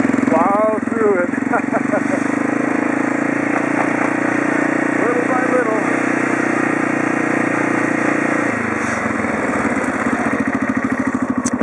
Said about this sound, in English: I use my little ATV with a snow plow, and I basically just